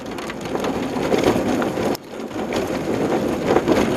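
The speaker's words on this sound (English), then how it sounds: "It was still pretty rainy" Steady rain in Belize near a jungle reserve, a dense constant hiss of drops pattering on surfaces, loud and close, with a brief dip midway before the downpour resumes.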